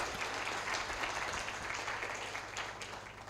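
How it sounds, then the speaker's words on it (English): An audience at a public lecture breaks into full, dense applause, a steady wash of many hands clapping close by that holds strong throughout and eases only slightly near the end. "I'd like to recognize you all and put together a hand clap for you."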